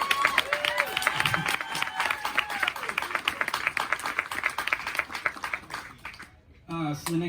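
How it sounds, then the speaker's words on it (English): Live concert audience clapping steadily at a small venue, dense rapid applause running under faint talk before tapering off near the end. "And you're even, clapping again."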